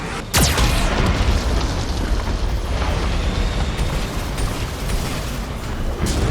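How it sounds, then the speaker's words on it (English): A Geth cannon in Mass Effect 2 fires, opening with a sharp, loud blast that gives way to sustained rumbling explosions and mechanical clatter, dense and close. "Warning, Geth cannon is locking on our location."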